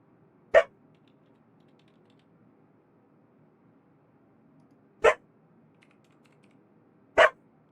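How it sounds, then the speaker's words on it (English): Three short, isolated barks from a female dog, spaced several seconds apart, moderately loud indoors with near silence between them. "She's going to bark more."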